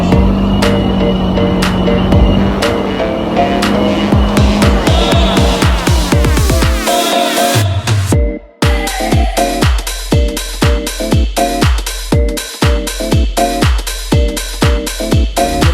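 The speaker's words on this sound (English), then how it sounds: "Practice ride on that Road Glide 2021." A 2021 Harley-Davidson Road Glide motorcycle rides along, loud and close, its engine tone rising and falling, a brief sharp drop near the middle, then a long run of rapid regular pulsing beats.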